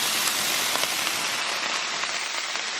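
Steady rain pours down outdoors during home cooking of jasmine rice, a dense continuous hiss of drops on surfaces with no talking, constant and fairly loud throughout.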